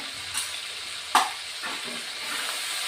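Coriander powder and Kashmiri chilli powder are sautéed in a pan for egg curry, with a steady frying hiss under occasional spoon stirs and one sharp scrape near the middle.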